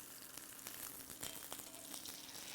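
Hot oil spitting and crackling in a pan on the stove, a steady dense sizzle with scattered sharper pops throughout, close and fairly quiet, no talking.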